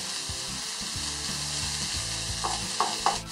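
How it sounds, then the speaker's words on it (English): Onions sauté in a pan with a dense, steady sizzle, broken by a few close clinking stirs near the end. "Let's give it a good stir"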